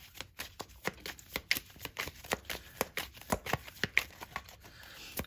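Tarot cards being shuffled close up, a quick run of crisp riffling slaps and flutters in an uneven rhythm, soft and alone without talk.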